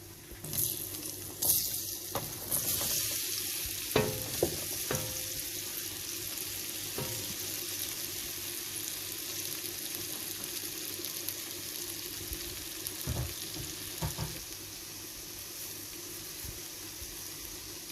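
Chopped peach fries in a pan with asafoetida for pickle, a quiet, low sizzle broken by a few stirring clinks early on, close with no talk.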